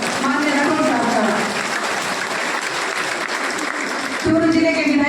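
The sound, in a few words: crowd applause at political rally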